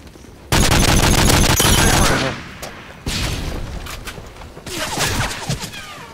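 Gunfire in the video game Modern Warfare 3: loud, dense bursts of rapid automatic shots in three separate volleys with brief pauses between them, close and booming, and a voice speaks briefly during the shooting.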